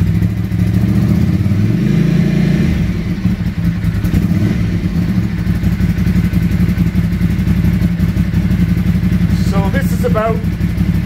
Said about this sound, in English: I'm going to give it a little bit of throttle here just by pulling on the cable.